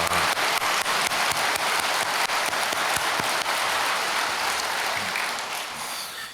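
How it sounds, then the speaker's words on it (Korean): Church congregation applauding at an early-morning dawn service, a dense, steady wash of many hands clapping that stays loud throughout and eases slightly near the end, with no voices over it. "우리 영광 올려드리는 박수를 하도록 하겠습니다."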